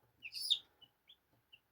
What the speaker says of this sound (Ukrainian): почали піщати, значить вилупляться